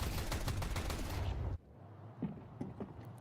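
Counter-Strike 2 gunfire rattles in a dense, rapid burst of shots for about a second and a half, then cuts to quieter scattered pops and game noise.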